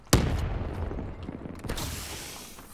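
A grenade in a Call of Duty match blasts out as one sharp, loud boom, then a long rumbling decay with scattered crackles as a second burst hits midway.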